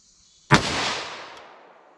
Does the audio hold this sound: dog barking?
no